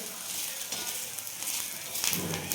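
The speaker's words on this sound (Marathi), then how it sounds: "बघा ह्या वेळेला कांदा पण याच्यामध्ये छान भाजला जातो" Sliced onion roasting in hot oil for a mutton masala, with a steady, close sizzle and crackle and occasional stirring scrapes, and no talk.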